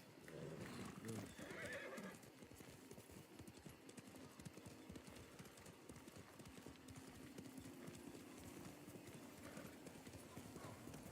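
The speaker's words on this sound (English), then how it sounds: "Should maybe also bring the horse too." A horse in the video game Ghost of Tsushima clip-clops steadily with rhythmic hoof beats and gives a whinny near the start, while a person talks over the game sounds.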